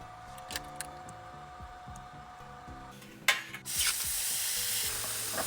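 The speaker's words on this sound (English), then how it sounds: "It's a welding, cutting, and cleaning 3-in-1 machine, and we'll go ahead and use this to cut this piece of metal." An X1 Pro 3-in-1 laser welding, cutting and cleaning machine cuts a piece of metal for a rusty rocker panel repair on a first-generation Toyota 4Runner, giving a loud, continuous hissing sizzle after a short start-up burst and a background hum.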